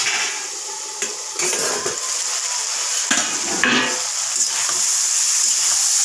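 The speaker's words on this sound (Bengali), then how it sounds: "বেশি সময় ভাজবো না, হালকা ভেজে নিচ্ছি।" Small fish frying lightly in a pan with cumin, a steady sizzle under repeated scraping and stirring of a spatula against the metal, with occasional clinks.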